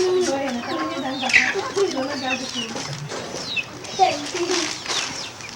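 Chickens at the Lake County Fair give a run of repeated clucks and squawks close by, with faint voices mixed in the background.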